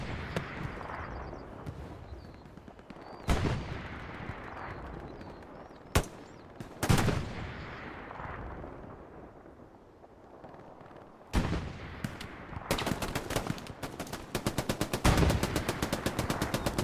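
Machine gun fire in the World War II shooter Hell Let Loose, set on the Kharkov map, sounds as loud nearby bursts and single heavy shots over a rumbling battlefield, ending in a long rapid automatic burst.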